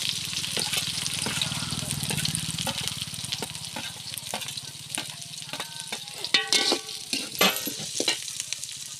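Onions and green chillies sautéing in hot oil in a pan, a continuous crackling sizzle close by with scattered spatters and clinks of stirring.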